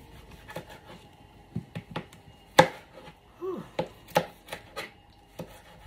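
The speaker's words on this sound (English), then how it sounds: "i'm just cutting up the tomatoes" A knife chops tomatoes on a cutting board in a run of sharp, irregular thuds close by, with one louder strike partway through and quiet gaps between cuts.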